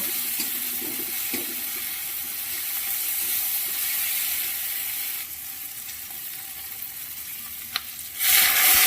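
Ginger spice paste stir-fries in a hot pan, a loud, constant sizzle with occasional stirring scrapes, close up, and a brief louder burst near the end; no one speaks.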